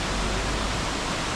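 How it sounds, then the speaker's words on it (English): A high waterfall near Ella, Sri Lanka, roars as a steady, loud, broadband rush of falling water, continuous and close, with no voices. "we've just pulled over at this other waterfall and it is breathtaking"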